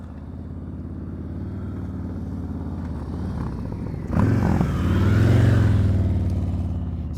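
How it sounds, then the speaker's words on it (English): A Honda Goldwing motorcycle rolls past at slow speed during a riding-skills practice session, its engine a low steady rumble that swells louder and closer partway through before easing off. "Look at this boss coming down here on this Goldwing."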